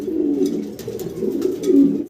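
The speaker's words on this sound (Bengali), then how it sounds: "আমরা কালো এক পেয়ার লাক্ষা কবুতর দেখতে পারতেছি" Black Lakkha pigeons in a farm cage coo steadily and close, a continuous low throaty warble with overlapping calls from several birds throughout.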